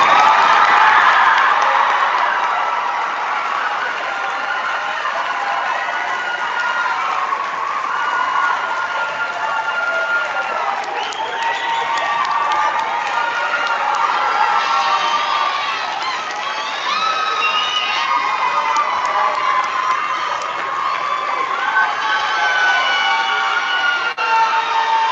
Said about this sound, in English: Let's give those graduates another round of applause.